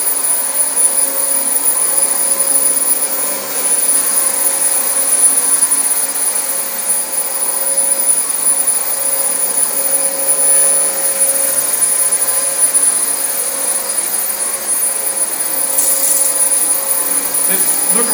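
A Dyson vacuum cleaner runs steadily throughout with a loud, constant motor whine and airy rush, nearby and unbroken by talk.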